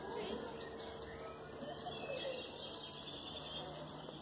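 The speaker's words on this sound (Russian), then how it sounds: "И птицы опять поют" Birds chirp and sing among tall old pine trees in a forest, several scattered calls and twitters at moderate distance over a soft background hush.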